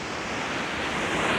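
Steady roar of the Salto del Itata, a 75-metre waterfall, a dense unbroken rush of falling water heard close and loud with no pauses.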